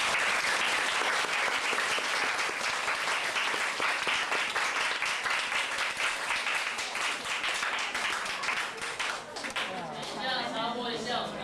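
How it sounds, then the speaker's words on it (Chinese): An audience applauds at a high school English drama contest, with loud, dense clapping that runs steadily for the whole stretch and eases slightly near the end. "请大家掌声鼓励"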